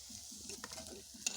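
Cabbage pakora fritters fry in oil in a large wok, giving a low, continuous sizzle with a few soft stirring scrapes and a sharp utensil tap near the end, close and fairly quiet.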